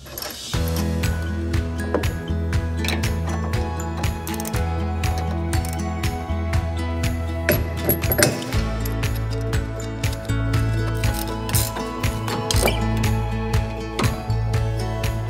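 A wrench tightens the nut securing a caster on a SuperMax 37x2 double drum sander, producing a long run of rhythmic metallic ratcheting clicks, loud and close, with a deeper mechanical tone partway through.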